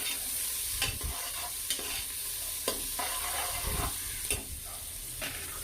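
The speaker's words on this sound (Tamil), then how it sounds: "அடுத்தது கட் பண்ணி வச்சுருந்த பெரிய வெங்காயம், போட்டு நல்லா கொஞ்சம் கலர் சேஞ்ச் ஆகிறது வரைக்கும் கிளறி விடணும்" Sliced large onions stirred and fried in a pot for biryani, a soft continuous sizzle broken by occasional sharp ladle scrapes and taps, heard alone with no talking.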